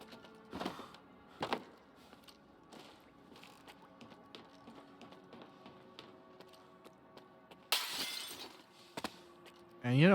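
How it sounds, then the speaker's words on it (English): Glass shatters in S.T.A.L.K.E.R. 2 with a sharp, bright crash near the end, preceded by quieter taps, footsteps and scattered clicks across a fairly hushed stretch. "always choose to break glass with your face"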